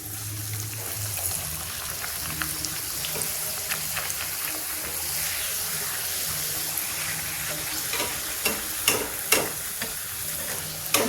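Puris fry in peanut oil over a high gas flame with a steady close sizzle and bubbling. Stirring clinks and scrapes come through near the end.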